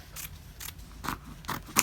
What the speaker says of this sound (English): And as I'm cutting with my scissors